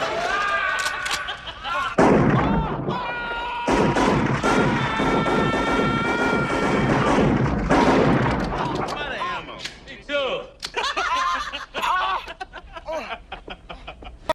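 Gunfire rings out in a movie scene, sharp shots cutting through music and voices, with several bursts and pauses before the shooting stops.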